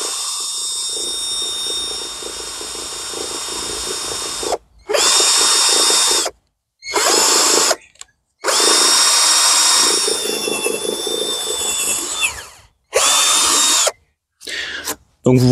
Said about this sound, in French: Et maintenant, je peux faire les trous.